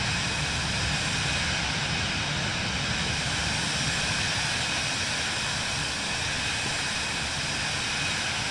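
Airplane engine in Microsoft Flight Simulator 2024 on PS5 drones steadily through the whole stretch, a loud, continuous broadband roar with no voices over it.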